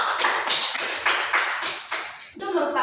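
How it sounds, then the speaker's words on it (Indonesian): Classroom applause from students after a classmate's answer during a lesson on corrosion, a quick burst of fairly loud, close hand clapping that fades toward the end. "Kita berikan tepuk tangan dulu untuk teman Geraldine."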